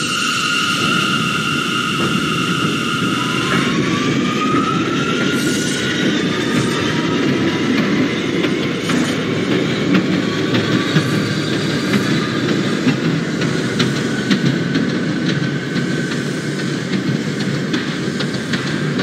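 An R179 subway train in the OpenBVE simulator runs steadily with a constant rumble and a rising motor whine as it accelerates, continuous and close, with no one talking.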